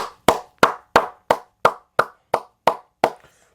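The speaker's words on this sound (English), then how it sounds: "starting this video out with a round of applause." Nine evenly spaced, sharp hand claps ring out one after another at a steady beat, close and distinct against silence, a single person clapping rather than a crowd.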